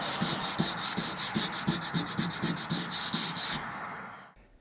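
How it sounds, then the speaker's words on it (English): Sandpaper rubbed by hand over a UPVC window repair, a rapid run of about fifteen close, rhythmic back-and-forth scratching strokes that stop abruptly near the end. "Sand it by hand in places if you need to, making sure all the damage is removed."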